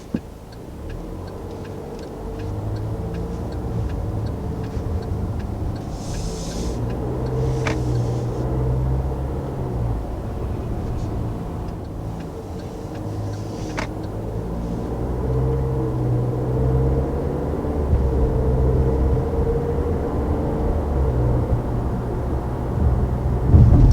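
A 2019 Cadillac XT4 Sport travels over a rough road, giving a continuous low cabin rumble with occasional faint ticks and knocks from the surface, steady throughout with no talk.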